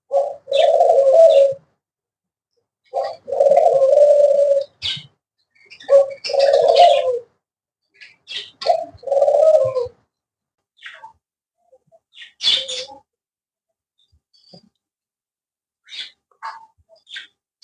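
Pet budgerigars calling while eating soft food, short bursts of chattering and cooing repeated in clusters with brief chirps and gaps between, close and fairly loud, no talking.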